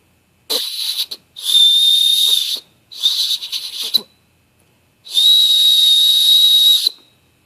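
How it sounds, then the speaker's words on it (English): A survival bracelet's buckle whistle is blown outdoors in four shrill, piercing blasts of varying length, loud and close, with brief silences between them. "The whistle, it's supposed to be 100 plus decibel integrated into this buckle."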